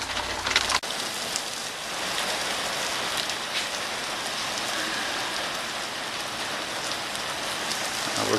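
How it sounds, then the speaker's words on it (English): Steady rain pours outdoors on surfaces around a 2005 Chevrolet SSR truck during a coolant flush, a dense even hiss close by that lasts the whole time after a brief knock at the start. "We're currently in a rain delay."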